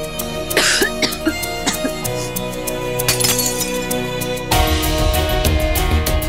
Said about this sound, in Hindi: ये खांसी की बगावत ने नींद को शहीद कर दिया है।